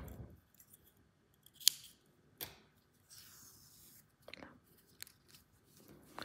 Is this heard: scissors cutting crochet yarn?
yes